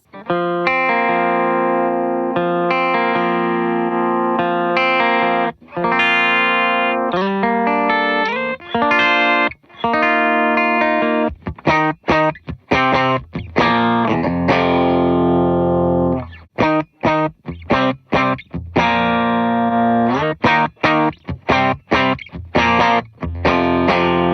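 Distorted electric guitar riffs through a Meris Enzo X pedal's preamp preset, with crunchy overdrive and a chorus-like shimmer, played in choppy, percussive bursts with brief gaps, loud and close.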